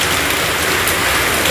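Steady rain falls outdoors after strong winds, a dense continuous hiss of drops hitting surfaces throughout, close and fairly loud with no voices.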